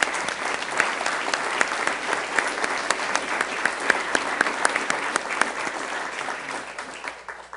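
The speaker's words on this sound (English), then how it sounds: "Let's give him a round of applause, please." Sustained applause from the audience at a Sioux Falls city council meeting, a dense, even patter of many clapping hands that holds steady for several seconds before tapering slightly at the end.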